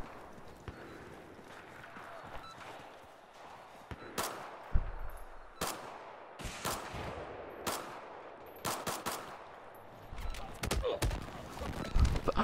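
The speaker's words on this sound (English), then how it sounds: "I'm your teammate and I'm shooting at you." Teammate gunfire in a video game, with several loud bursts of rapid shots and single cracks scattered over a busy game background, footsteps in between.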